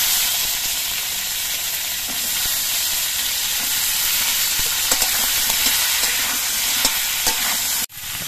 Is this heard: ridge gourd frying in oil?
yes